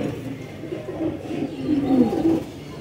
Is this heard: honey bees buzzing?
no